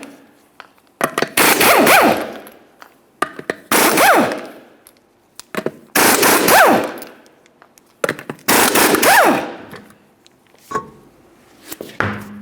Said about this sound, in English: Continue on to removing all 5 of your 21mm lug nuts and then the wheel.